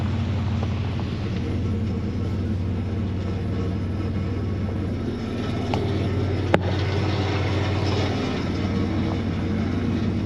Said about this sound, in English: as you can see, the truck is moving.